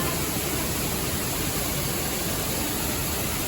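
Mangeli waterfall on the Goa–Maharashtra border in monsoon flow gives off a steady, loud, broadband rush that never lets up.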